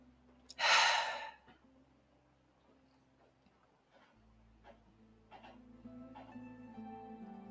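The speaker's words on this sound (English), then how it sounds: "breathing in and out through the nose only, as long as that's comfortable" A person meditating alongside a pet takes one loud, close breath, then the room falls quiet apart from faint ticking and soft tonal sounds.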